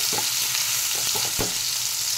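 Spices roasting in a hot pan for chole, a dense steady sizzle heard close up with a few soft stirring knocks.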